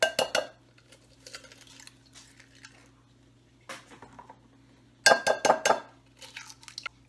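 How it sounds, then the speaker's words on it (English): Eggs cracked one after another into a bowl while making an egg mixture: sharp clicking taps and small clinks against the rim come in short clusters, separated by quiet pauses. "I am going to crack some eggs into it and start our egg mixture here."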